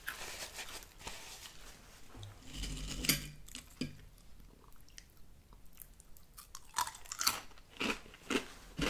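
Close, steady chewing of dry Cinnamon Toast Crunch cereal with no milk, crisp crunches coming in uneven clusters that fade quieter midway, then return with sharper bites.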